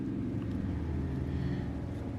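A steady low rumble of a car engine drones outside, even and unbroken, with no voices.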